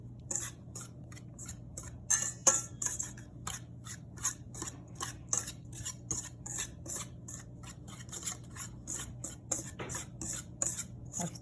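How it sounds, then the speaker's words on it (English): Sugar being mixed into butternut crinkle dough in a bowl, a steady run of close scraping and rasping strokes in quick rhythm, with a low hum underneath and no talking. "now we're going to mix everything"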